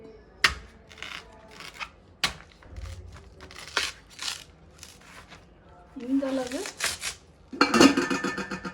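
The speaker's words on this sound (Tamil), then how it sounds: "இந்த வாழைத்தண்டு தான் நம்ம இப்போ நறுக்க போகிறோம்" Sharp crisp cuts and scraping on a board come in irregular strokes, a knife working through fibrous banana stem, with some rustling and handling noises nearby.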